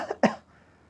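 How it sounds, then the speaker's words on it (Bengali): A single person coughs twice in quick succession, a short softer cough followed by a sharper, louder one, then quiet. "এই যে কাশি হচ্ছে,"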